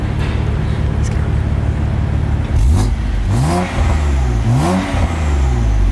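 A BMW F80 M3 with VRSF catless downpipes and exhaust valves closed idles with a deep rumble, then is revved in three quick, loud blips that rise and fall, close by.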